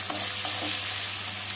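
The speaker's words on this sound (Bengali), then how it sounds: "টমেটোটাকে পেঁয়াজের সাথে ভালো করে ভেজে নেব।" Chopped tomato and onions fry and are stirred in a pan for a Bengali soya and cabbage dish, giving a steady soft sizzle with a few light scraping taps.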